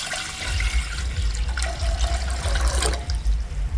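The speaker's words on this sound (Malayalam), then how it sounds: "ഇതിലോട്ട് നമുക്ക് കുറച്ച് വെള്ളം ഒഴിച്ചു കൊടുക്കാം." Water pours steadily into a cooking pot for vermicelli payasam, a continuous splashing gush, loud and close, lasting the whole time.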